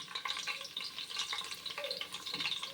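Fresh curry leaves hit hot oil in a pan for a South Indian methi rice bath, crackling and sizzling steadily with bright spitting pops and faint stirring, close up and with no voices.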